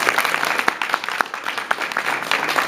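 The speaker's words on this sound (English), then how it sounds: "let's give Jim a round of applause" Audience applause at a ConnectiCon 2012 convention press event, a steady patter of clapping with sharper individual claps standing out, moderately loud and continuous through the short stretch.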